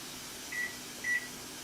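Two short electronic beeps from an oven timer being set while salmon stuffed with seafood dressing bakes, each a thin steady tone about half a second apart, quiet over a low background hum.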